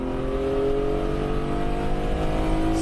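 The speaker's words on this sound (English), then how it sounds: "It's got this low rumble and this guttural sound that I think is more like a World War II aircraft than another car." A Porsche GT3 engine gives a low, guttural rumble, steady and fairly loud, holding a continuous drone with strong low harmonics for a few seconds without voices.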